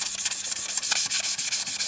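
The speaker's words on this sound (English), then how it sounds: "give this a wee rub down with the 500" A pen blank spinning on a lathe is sanded with 500 grit paper, giving close, loud, rhythmic rasping strokes that come in quick repeated pulses.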